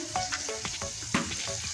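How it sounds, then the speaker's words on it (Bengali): Slices of pointed gourd fry in hot oil in a pan, giving a steady close sizzle with small crackling pops throughout, no voices. "পটল ভাজা বসিয়ে দিয়েছি এবার উল্টিয়ে নেব"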